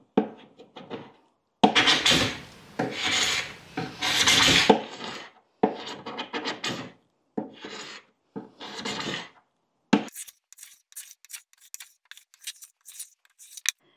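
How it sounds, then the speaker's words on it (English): A carbide scraper scrapes varnish and damage off a wooden table top in bursts of close, harsh rasping strokes, several in a row with short pauses, followed by lighter scattered scratches. "take the carbide scraper and use that to scrape the top layer of varnish"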